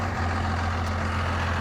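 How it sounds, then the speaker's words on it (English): Street traffic passing on a summer street in Driggs, Idaho, with a truck engine rumbling steadily close by, a continuous low drone with no talk. "Nice traffic here."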